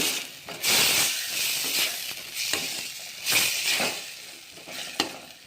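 Fried cluster beans (chowlikai) are stirred into an oily masala in a pan, with repeated scraping strokes of the spoon rising over a continuous sizzle, up close and without speech.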